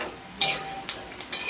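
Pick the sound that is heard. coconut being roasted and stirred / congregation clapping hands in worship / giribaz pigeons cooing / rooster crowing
coconut being roasted and stirred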